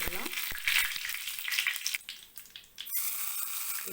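Curry leaves dropped into hot oil for a tempering, crackling and sizzling loudly at first, then settling into a steady fry with a few sharp pops, briefly dipping before the sizzle returns.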